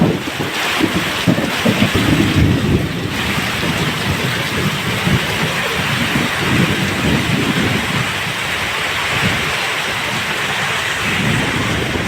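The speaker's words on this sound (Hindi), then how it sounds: "जोरदार हवा चल रही है," Strong wind gusts roar and buffet the microphone during a heavy monsoon downpour outdoors in a rural farmyard, a steady loud rushing with rain hiss and rumbling throughout, no voices.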